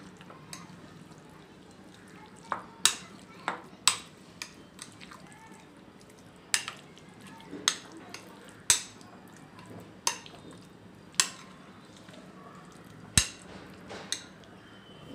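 Chicken tikka marinade is stirred in a bowl for a samosa filling, heard as a steady series of sharp spoon taps against the container, roughly a second apart, over a quiet room with no talking.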